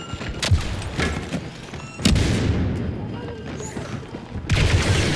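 An impact grenade blast in an online shooter game, a sharp booming burst with rumbling tail, followed by another thumping explosion amid scattered gunfire, loud and close.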